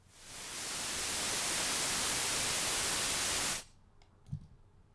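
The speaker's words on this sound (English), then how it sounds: "So that's white noise" A loud, even burst of broadband white noise from a VCV Rack synthesizer that swells in, holds for several seconds, then cuts off abruptly, leaving a faint click afterward.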